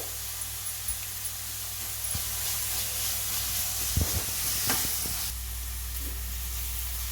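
Ginger paste frying with softened onions in a pan on low flame gives a steady, close sizzling hiss throughout, with a few brief stirring clinks partway.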